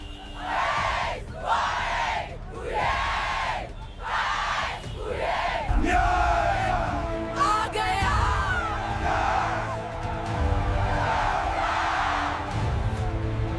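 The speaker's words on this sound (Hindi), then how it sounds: "भीड़ फिर से नारे लगाने लगती है" A large crowd yells and chants slogans in rhythmic bursts, then keeps up a loud, continuous roar of massed voices without a break.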